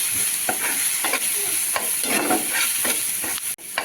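Spice masala being fried and stirred in a pan for a Bengali vegetarian potato, eggplant and drumstick curry, a steady close sizzle broken by repeated spatula scrapes and stirring strokes, with no talking.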